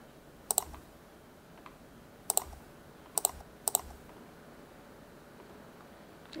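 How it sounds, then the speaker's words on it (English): Computer mouse clicks while tracing a land-use map in GIS software, a few sharp close double-clicks spaced apart over quiet room hiss. "So I'll start clicking in this area."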